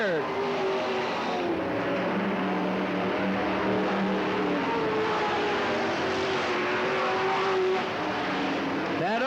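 Race cars roar around the Riverside Speedway (Cottage Grove Speedway) dirt track at a 1991 event, engines droning and rising in pitch as they pass, loud and continuous with voices faintly underneath.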